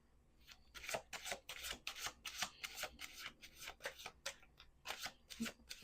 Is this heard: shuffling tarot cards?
yes